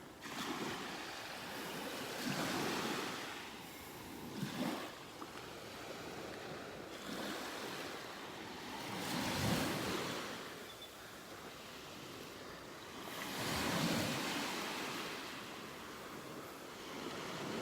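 Ocean waves break on a beach in North Naples, Florida, rolling in as repeated broad surges every few seconds, each one building and fading into a steady wash of surf with light wind.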